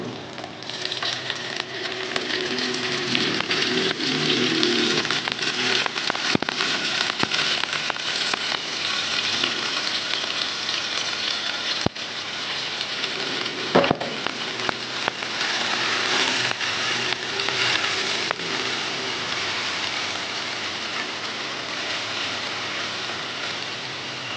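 Blended pointed gourd pulp added to frying onions in a pan for a potol dolma with prawns, giving a steady, loud, close crackling sizzle that continues throughout with occasional stirring clatter.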